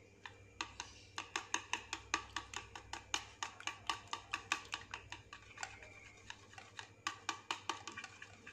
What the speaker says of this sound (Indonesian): Pertama-tama kita kocok dulu telurnya